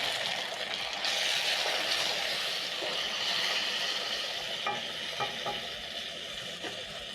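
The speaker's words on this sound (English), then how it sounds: "When the onions are ready, you're going to add in 2 medium diced tomatoes" Diced tomatoes fry with onions in a pot, giving a continuous moderate sizzle with scraping stirring clicks toward the end.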